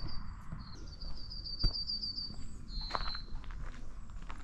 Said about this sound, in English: There you have it, the yellowhammer.